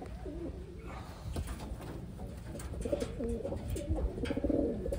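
Taiwan-bred pigeons cooing close by while being handled, several soft, throaty rolling coos repeating through the stretch over light handling noise.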